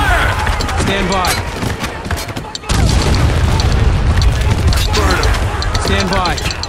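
Mortar rounds explode in the war shooter Spec Ops: The Line: heavy, booming blasts and scattered gunfire fill the battlefield without a break, with squad radio chatter talking over it.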